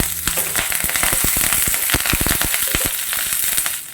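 Curry leaves and garlic crackle in hot oil after mustard seeds have popped, cooking a valaikai (raw plantain) poriyal; dense, loud sizzling with many sharp pops throughout, close by and without talk.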